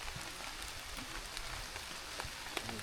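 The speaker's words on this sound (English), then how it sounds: "this rain is quite relentless" Relentless heavy rain pattering steadily on military gear and the ground close by during a downpour, a dense, even hiss with no voices.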